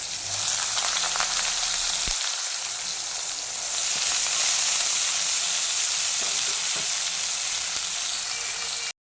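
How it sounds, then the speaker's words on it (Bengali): Loud, steady sizzling of pointed gourd frying in hot oil, a dense crackling hiss that holds throughout with a few faint knocks partway. "এবার এগুলো তেলে ভেজে নেব।"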